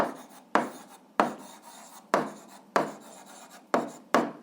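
A pen scratches across paper while a school algebra exercise is written out. The strokes come in short, close, distinct bursts of about seven, each starting sharply and then fading, with no talking.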